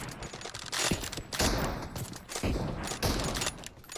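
Rapid gunfire in PUBG Mobile, a shooter video game, with several sharp bursts of shots cracking in close succession over a busy game background.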